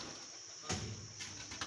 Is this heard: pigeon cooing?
yes